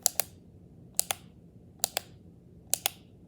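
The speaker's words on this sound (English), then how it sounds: "that clicking sound, I freaking despise it" A fake K-II EMF meter gives sharp double clicks, four pairs spaced about a second apart, close and crisp over a faint hum with no talk.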